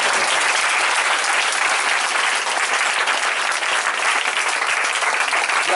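A church congregation bursts into sustained, loud applause and cheering, dense steady clapping filling the whole stretch without pause.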